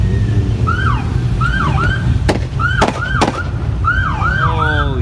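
Police car siren arriving at a car meet, loud and close, cycling through repeated rising-and-falling wails with a few sharp short blasts in between.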